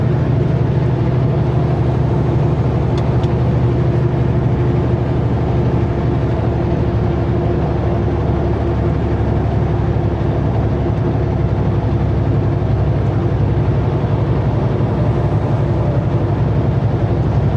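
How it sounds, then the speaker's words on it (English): A heavy truck's engine drones steadily as it climbs a highway grade, producing a loud, continuous low rumble with no breaks and no talking. "we're almost the slowest truck on the highway"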